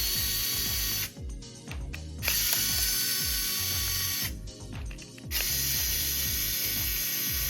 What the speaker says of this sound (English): To access the internals, we first must remove the 4 Torx screws located on the back of the console.